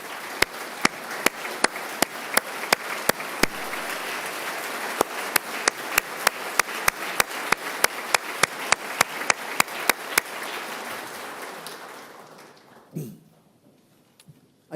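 Applause from an assembled audience in a legislative gallery during a governor's State of the State address, a dense steady roar of clapping with sharp camera-shutter clicks scattered through it, fading out toward the end.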